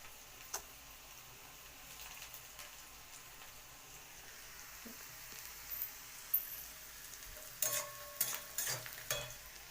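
Prawns already fried with salt are stirred in a pan with a little added salt, giving a soft steady sizzle with a few spoon scrapes that grow louder and more frequent toward the end.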